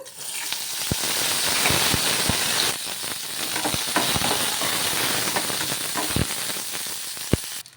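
Green chillies sauté in oil in a kadai, a steady hissing sizzle with scattered sharp pops and clicks from the spattering oil throughout.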